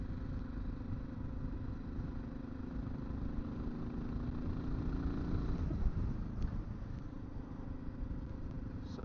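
A Suzuki DR650 dual sport motorcycle rides along at steady speed, its thumping single-cylinder engine droning low and close with wind rush throughout.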